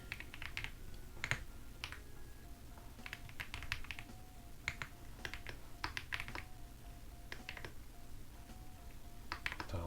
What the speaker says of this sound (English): I'll just type it so you can hear this anyway.